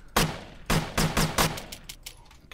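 Shotgun blasts in the video game CubeZ, five loud close booming shots in a fairly quick irregular sequence, then a few fainter pops trailing off.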